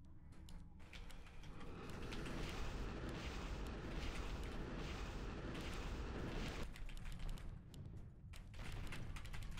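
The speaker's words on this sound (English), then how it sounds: "They're gonna be destroyed in a second, unfortunately, by this very annoying cannon tower." A cannon tower fires in the Warcraft 3 strategy game amid a dense, loud wash of booming, rumbling battle noise and mechanical clatter that barely lets up for the whole stretch, with no voices over it.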